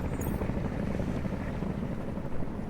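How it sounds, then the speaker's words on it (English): A helicopter in Deus Ex: Mankind Divided, a steady, loud rotor drone with a low rumble that fills the whole clip without a break. "Helicopter."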